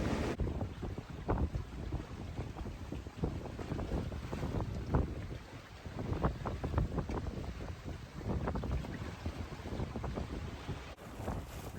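Steady wind rushes and buffets past the microphone aboard a sailboat on a beam reach off St. John, with a continuous roar, water sloshing and gusts rising and falling throughout, no voices.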